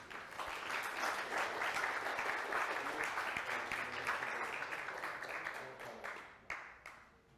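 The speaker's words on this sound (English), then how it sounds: "Round of applause." Sustained applause from an audience at a higher education open data competition innovation day, a dense even clatter of many hands lasting several seconds before tapering off with a few final claps.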